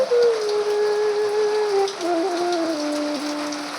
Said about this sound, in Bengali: প্রচুর প্রচুর বৃষ্টি এখানে বৃষ্টি থামার নামই নিচ্ছে না